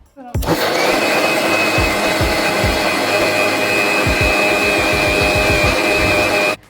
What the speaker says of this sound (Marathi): आता हे सगळं आपण मिक्सरमध्ये मस्तपैकी बारीक करून घेऊयात